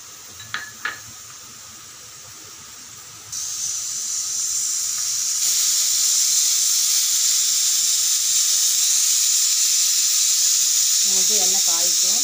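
Groundnut oil heating in a pan for mutton gravy gives a steady hiss that swells and grows louder partway through, with a couple of brief clinks near the start and a voice speaking over the end.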